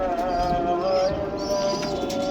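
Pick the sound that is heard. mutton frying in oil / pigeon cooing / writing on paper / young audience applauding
pigeon cooing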